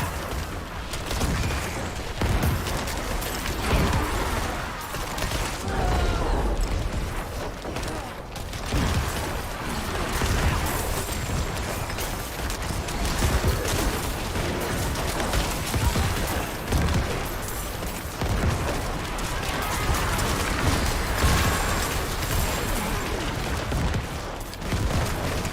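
Diablo 4 gameplay brings a dense, continuous barrage of rapid shooting and dash effects, loud and unbroken for the whole stretch, with faint talk now and then underneath.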